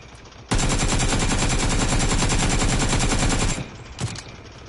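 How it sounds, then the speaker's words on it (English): Sustained automatic machine gun fire in the PUBG video game, a loud, rapid, unbroken burst lasting about three seconds, followed by a brief pause and a short final shot. "120 bullets, baby. I didn't have to stop shooting."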